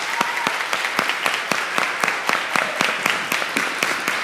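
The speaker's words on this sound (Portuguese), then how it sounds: "Vamos honrar com palmas os nossos mantenedores" A church congregation at a family service claps in a steady, evenly spaced rhythm, each sharp clap distinct, moderately loud and continuing for several seconds without talk.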